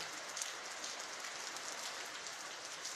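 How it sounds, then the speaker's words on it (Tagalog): Rain from Typhoon Ulysses pours in a steady, dense patter on surfaces, a soft uniform hiss that stays faint and unbroken throughout, with no voices. "binabayo at patuloy na hinahagupit ng bagyong Ulysses"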